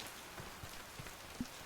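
Rain falls in the island survival game Oceaneers, a soft, even patter of drops with a few slightly louder ticks, quiet and steady, with no voices.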